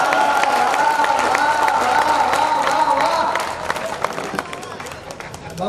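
Audience applause and cheering at a Hindi comic poetry recital, dense clapping from a crowd with a sustained voice over it, fading after the midpoint into softer scattered claps.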